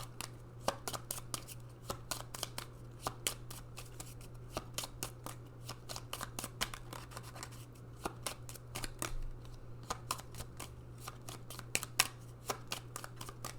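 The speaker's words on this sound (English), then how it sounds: "Okay, we're gonna cut the deck." A deck of cards being shuffled and cut for a pick-a-card reading, a long steady run of crisp riffling snaps and flicks close by, with a constant low hum underneath and no talk.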